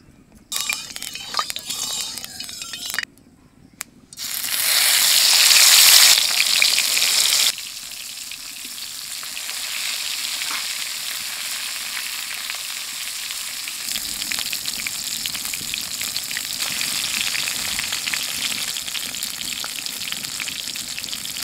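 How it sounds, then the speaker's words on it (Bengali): Eggplant slices fry in mustard oil, a steady bright sizzle that swells loudly for a few seconds and then settles into a quieter continuous crackle, with no talk. "বেগুন ভাজা হয়ে গেছে আনে নামাই ফেলবো"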